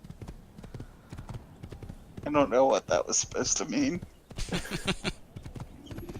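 Horse hooves clop in the Assassin's Creed video game. Steady hoofbeats run through the whole stretch under loud, overlapping talk from players and game voices.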